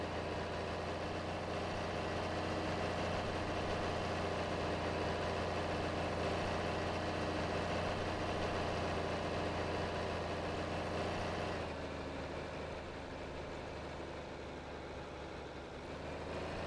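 A John Deere 4020 tractor idles steadily in Farming Simulator 22, a constant low engine rumble that stays loud and unbroken, dipping slightly near the end, with no talk.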